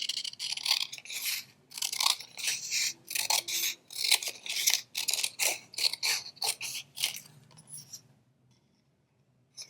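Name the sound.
scissors cutting paper strips for beads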